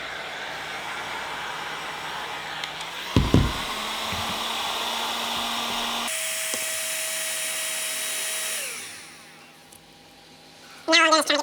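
A heat gun warms a Ford Bronco center grab handle wrap, a constant blowing hiss with a few knocks partway through, its pitch shifting midway before it fades out, then a burst of rustling handling noise at the end.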